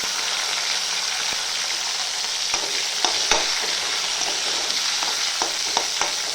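Tomato frying in hot oil with browned garlic, a loud continuous sizzle with scattered crackles and occasional stirring clicks, close up.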